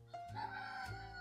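A rooster crows outside, a single drawn-out cock-a-doodle-doo heard from some distance, faint but distinct and alone without talk.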